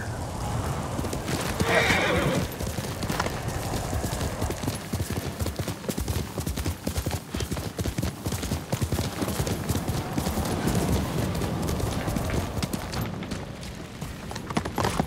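A horse named Kage gallops in the video game Ghost of Tsushima, fast rhythmic hoofbeats pounding steadily and close throughout, with a brief neigh near the start.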